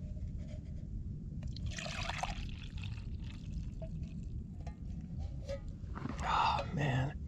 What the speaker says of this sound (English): So I'm going to pour this into my mug and work on my whipped cream here.